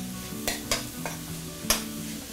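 Shallots, green chilli, ginger and garlic fry in oil while a spoon stirs, the steady sizzle broken by three or four sharp scraping strokes against the pan, close and without speech.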